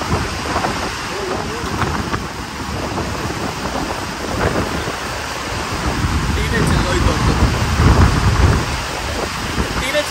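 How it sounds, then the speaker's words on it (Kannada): Heavy rain pours down during a thunderstorm in Mangaluru, a loud, dense roar of water with wind buffeting the microphone and deep thunder rumbling that swells toward the end. "ಏನು ಸುರಿತಾ ಇದೆ ನೋಡಿ ಮಳೆ."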